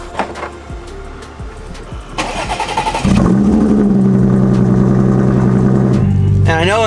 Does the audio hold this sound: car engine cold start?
yes